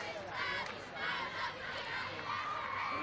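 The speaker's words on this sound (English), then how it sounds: "A pretty good crowd on hand tonight." Crowd at a night high school football game, a steady murmur of voices and shouts from the stands, with occasional louder calls rising over the babble.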